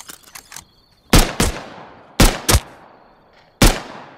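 Gunshots in the video game Rust on a large oil rig: a few faint taps at first, then loud sharp shots in quick pairs, a double tap followed by another double tap and then a single final crack, with quiet gaps between.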